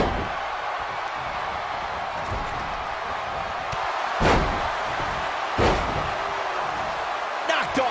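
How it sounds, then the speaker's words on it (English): Heavy body slam thuds in a wrestling video game's World Heavyweight Championship two-out-of-three-falls match, two or three sharp impacts over a constant roaring arena crowd. "Knocked off his feet. Now that's a takedown."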